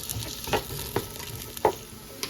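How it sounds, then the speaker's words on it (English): Diced onions and carrots sautéing in butter and olive oil, with a soft steady sizzle broken by a few sharp stirring scrapes, close and fairly quiet. "we've been kind of sauteing the onions and the carrots and the butter and the olive oil for about a minute"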